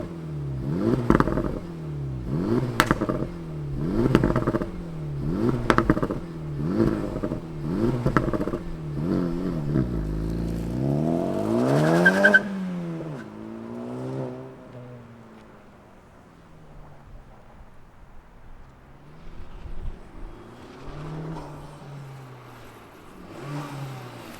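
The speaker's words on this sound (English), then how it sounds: "let's fire this thing up and hear if it sounds better than the WRX TR" A 2024 Acura Integra Type S engine revs repeatedly in rhythmic bursts up close, climbs to a long high rev, then drops back to a lower idle with occasional blips.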